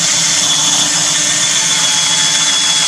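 A steady, high-pitched whine of a power drill running continuously close by, starting an angled hole in a vintage Duncan Phyfe style dining table, with no voices.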